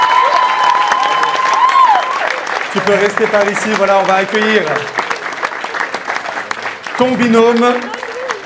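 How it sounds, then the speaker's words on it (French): An audience claps steadily for a contestant at a model competition, continuous applause running beneath a host's voice and a second voice speaking over it. "on peut encore l'applaudir bien fort s'il vous plaît"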